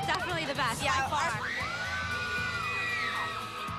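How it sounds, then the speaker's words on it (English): Young female fans at a pop concert shriek and scream in high, wavering cries that swell and fade, with crowd babble and nearby talk mixed in. "that's what happens at concerts. You're going to have, like, people screaming in your ear"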